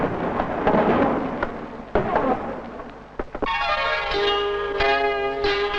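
Fireworks at a night show, a run of sharp booming bursts and crackles that give way to a sustained bright ringing tone, mid-distance and fairly loud.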